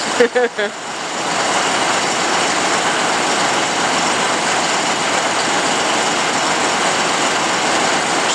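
A John Deere 5067E tractor loader engine runs at a steady, loud drone close by after a few brief knocks at the start, a broad continuous mechanical roar holding level throughout.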